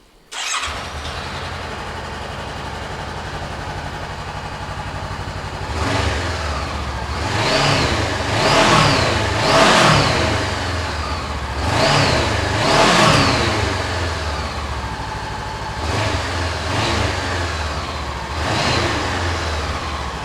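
A low-mileage Honda CB500 motorcycle engine starts up with a quick crank and catch, then runs close by at a steady idle broken by several repeated throttle blips that swell and fall back.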